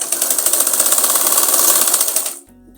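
A sewing machine stitches fabric for a child's umbrella frock in a rapid, even mechanical chatter, close and loud, then stops abruptly near the end.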